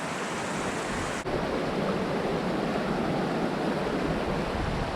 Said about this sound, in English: This is actually a pretty large mountain stream.